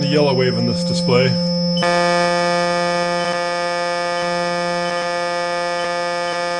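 A buzzy electronic ramp-waveform tone from a Feeltech FY2300 function generator, with many bright harmonics, starts abruptly and holds steady and loud, after a brief stretch of talking.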